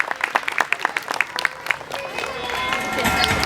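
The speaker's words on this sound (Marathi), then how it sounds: "एकदा जोरदार टाळ्या होऊ द्यात." An audience at a school event claps for a pupil's parents, a burst of applause that starts as distinct claps and thickens into a steady, building roar of hands from the crowd.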